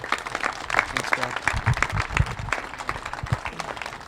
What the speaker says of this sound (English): we need to give them all a round of applause